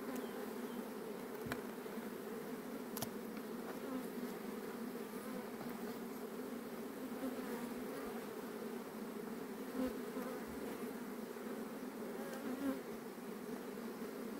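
A dense, steady hum of many honeybees buzzing close by at an open hive continues throughout, with a few brief louder passes of individual bees.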